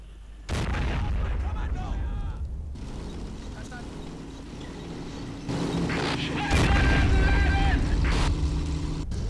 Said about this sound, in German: Irgendwas schießt hier auf mich.